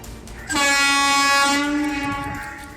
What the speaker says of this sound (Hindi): चेन्नई स्टेशन और काटपाड़ी जंक्शन के बीच वंदे भारत मेट्रो का ट्रायल रन शुरू कर दिया गया है